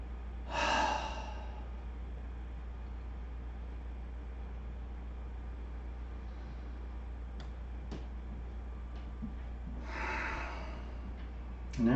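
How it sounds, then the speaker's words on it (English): Slow, long, deep breaths during a Vinyasa yoga session: two clear breathy exhales about nine seconds apart over a steady low hum, with faint ticks between them and no talking. "after you have several rounds of that long, deep breathing"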